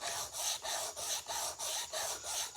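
Sanrenmu knife hand-sharpened on Shapton ceramic whetstones, close, quiet rhythmic rasping strokes, about seven even back-and-forth scrapes in steady succession.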